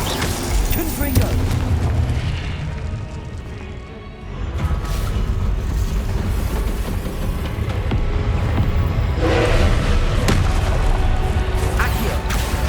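Loud, dense booming blasts of the Confringo fire spell in the Hogwarts Legacy video game, rumbling continuously amid game effects with bursts around the start and end.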